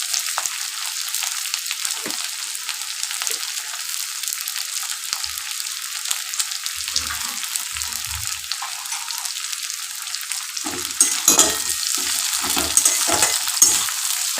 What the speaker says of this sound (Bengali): পেঁয়াজটা একটু ট্রান্সপারেন্ট হওয়া পর্যন্ত আমি অপেক্ষা করবো